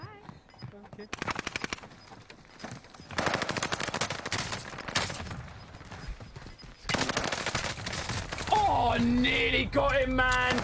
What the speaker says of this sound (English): This gun is so strong.